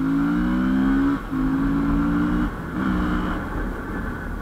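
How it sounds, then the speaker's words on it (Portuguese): Honda XRE motorcycle, 300–330cc with its fuel injection not yet properly tuned, revving hard on a launch with the tire squealing; loud, close engine tones rise in pitch across two or three quick gear pulls with no talk. "A saidinha que eu dei ali, ela cantou pneu."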